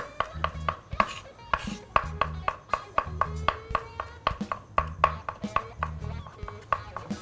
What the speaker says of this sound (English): Just a good fine chop on this, because it is going to go on the corn, so you don't want big lumps of garlic.